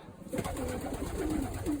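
Ukrainian-bred pigeons coo steadily inside a pigeon loft, soft throaty calls overlapping at close range with no voices.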